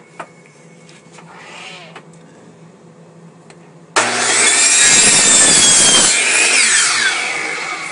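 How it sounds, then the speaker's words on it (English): Cutting wood for a birdhouse with a power saw: faint clicks and brief rustles, then a sudden loud saw starts, running high and steady with a rising whine and slowly trailing down near the end. "After making your cuts"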